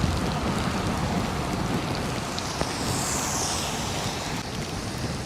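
Heavy rain drums steadily on a V12 vehicle, a dense, continuous wash of hiss and patter with no talk.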